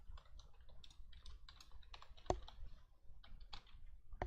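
Someone typing on a computer keyboard to enter user details, a quiet, irregular run of close key clicks with one sharper tap.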